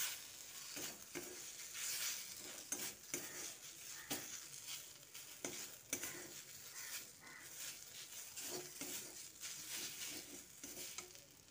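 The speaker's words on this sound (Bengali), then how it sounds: "এর মধ্যে অল্প পরিমাণে জল দিয়ে ভালো করে নেড়েচেড়ে নিচ্ছি" Bitter gourd mixture with gram flour being stirred in a pan over a low flame after a little water is added, a soft continuous sizzle with quiet scraping strokes repeating throughout.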